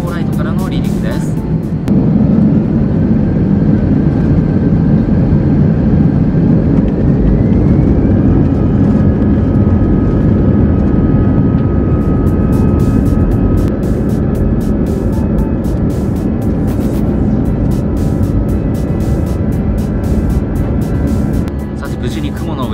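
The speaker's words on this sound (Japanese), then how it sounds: "北風運用、ビーカソルのランウェイ34ライトからの離陸です。" A Peach airliner takes off from runway 34 right at Narita, its engines a loud, steady low roar that builds and holds throughout, with a person speaking over the cabin noise.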